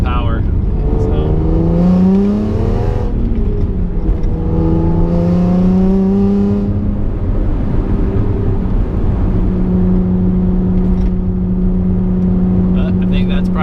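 A BMW E46 M3 accelerating, its induction noise rising in pitch through repeated revving sweeps and gear changes, loud and close, then settling into a steady drone.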